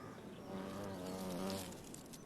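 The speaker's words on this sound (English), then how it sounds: "Unless you're a bumblebee." Bumblebee buzzing close by among flowers, a steady droning hum that swells louder in the middle and eases off, alone without any talk.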